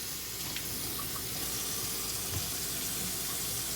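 Water from a kitchen tap runs steadily into a sink while a small cutting board is washed by hand, a constant close hiss with no talking.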